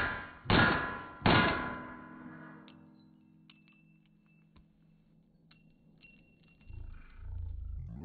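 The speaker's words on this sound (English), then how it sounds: "Let's do one more double tap." Two sharp pistol shots from 115 grain Federal factory ammunition fired as a quick double tap, loud and close, each cracking then ringing out into a long fading tail, followed by faint clinks and a low rumble.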